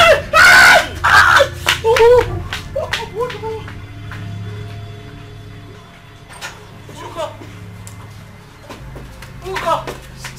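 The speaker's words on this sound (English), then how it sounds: "I heard a voice. A scream." A voice lets out a sharp scream amid crowd noise and shouting, loud at first, then fading into murmuring speech and scattered clatter in a dramatic scene.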